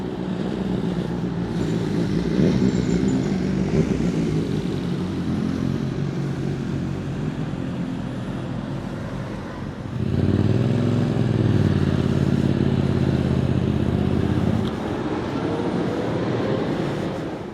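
Motorbike engines rumble continuously nearby, with a louder bike passing partway through amid general road traffic.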